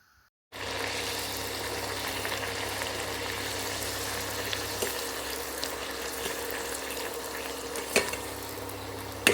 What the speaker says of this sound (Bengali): লুচি বেলা কমপ্লিট এবার ভাজার পালা